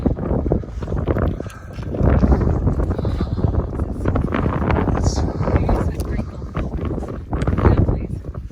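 Strong wind on Mount Washington near Nelson Crag and the Great Gulf buffets the microphone in loud, continuous roaring gusts, with a person talking over the rush.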